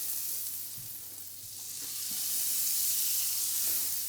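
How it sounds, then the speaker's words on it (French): Pancakes cook in a hot frying pan, giving a steady broadband sizzle that swells slightly toward the end, with a few soft clicks and a faint low hum beneath and no voices. "c'est papa et maman qui vont faire cuire les pancakes"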